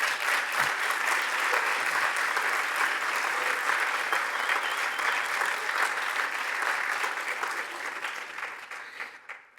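An audience bursts into sustained applause at a political speech, a dense wash of clapping from many hands that holds steady and then tapers off near the end.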